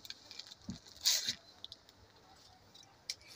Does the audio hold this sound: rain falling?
yes